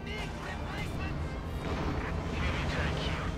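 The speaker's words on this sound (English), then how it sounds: "taking heavy losses with the infantry gun firing up close" Gunfire and explosions from an infantry gun in a Company of Heroes 2 battle rumble in a dense, continuous wash of booms, with a commentator talking over the din.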